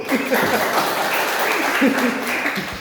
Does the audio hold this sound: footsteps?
no